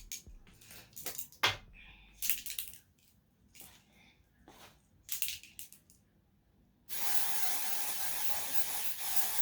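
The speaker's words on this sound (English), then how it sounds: "I'm going to spray the Goodie on my wig cap" Ebin lace tint spray in dark brown misted onto a wig cap, a steady loud hiss lasting a few seconds after scattered handling clicks and rustles.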